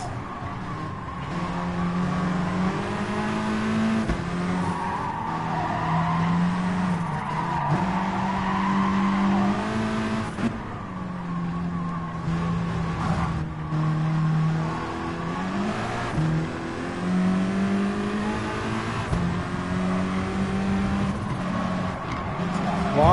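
Race cars launch from a standing start at Autopolis in GT Sport, with engines revving and tyres squealing and skidding as the pack pulls away, loud and continuous, while someone talks over it.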